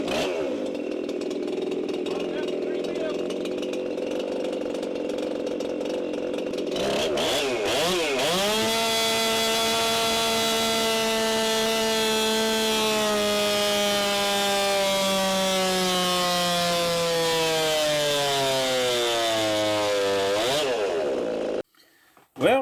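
A chainsaw runs on a dyno, first idling roughly, then screaming at full throttle for a long sustained pull with the pitch slowly sagging under load before it cuts off abruptly near the end.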